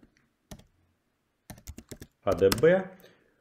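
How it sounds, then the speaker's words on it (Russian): A few sparse clicks on a computer keyboard while an adb logcat command is typed, then a quick cluster of keystrokes with a brief voice overlapping near the end, otherwise quiet. "Вводим команду adb"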